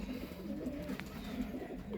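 Soft, low coos from Punjabi flying pigeons repeat in a gentle rhythm, quiet and close, with faint background noise.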